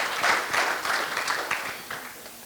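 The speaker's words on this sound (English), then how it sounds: "give them a round of applause while they're coming on up" Audience at a community emergency preparedness forum applauds as presenters come up, a moderate, steady patter of many hands clapping heard from a distance.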